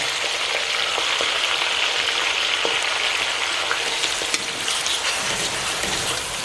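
Tomatoes hit a browned masala paste for Punjabi-style dal fry, giving a steady close frying sizzle like rain on a surface, with faint clinks of stirring and no talking.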